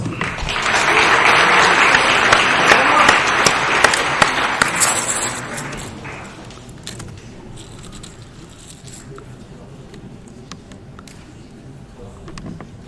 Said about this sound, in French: Aval, F9, 33 points, avec vos applaudissements.